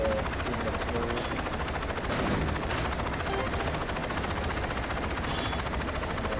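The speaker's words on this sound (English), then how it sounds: "all these helicopters" Several helicopters in a Saints Row 2 video game race, a continuous whirring rotor and engine drone with rapid chopping texture and a brief louder swell midway, steady and fairly loud with no talk.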